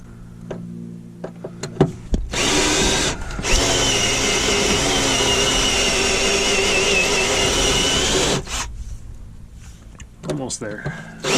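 A cordless power drill bores out a drive shaft support on a 2G DSM during an AWD swap, a loud, sustained whine lasting about six seconds, bracketed by short clanks and handling noises.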